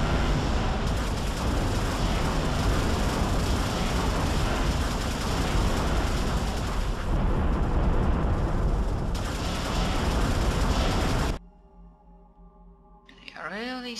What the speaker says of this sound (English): Enemy dreadnought destroyed.